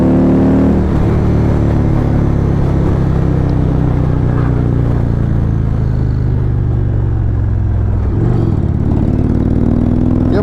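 An Indian Chief Vintage throttle-by-wire motorcycle engine revs loudly and close, its deep rumble swelling and falling through repeated throttle blips with no pause.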